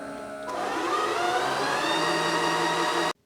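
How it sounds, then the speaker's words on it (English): A Bissell Crosswave HF3 cordless wet mop runs its self-clean cycle with a loud, steady motorized whir and watery churn that starts abruptly, holds for under three seconds, then cuts off sharply. "And that's the sound of the self-cleaning."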